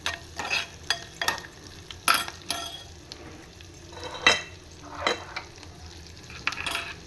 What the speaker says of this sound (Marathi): बोंबील छान परतून घेते.